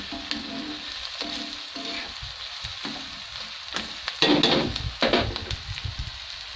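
Onions frying on low heat in a pan, a soft steady sizzle broken by scraping stirs and a few louder clatters of the spatula near the end, with no voices.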